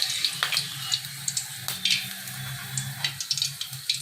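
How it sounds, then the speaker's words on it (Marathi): Green chilies frying in hot oil for chana dal vada: a continuous bubbling sizzle with crackles, heard close with a low background hum. "आता या मिरच्या ज्या आहेत आपल्या तेलात व्यवस्थित तळल्या गेल्यात"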